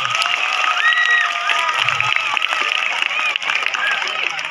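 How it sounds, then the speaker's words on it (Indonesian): Applause for visiting military and academy guests at a school outreach event, broad crowd clapping filling the clip with some cheering and voices mixed in, steady and fairly loud throughout. "Tepuk tangan buat mereka semua"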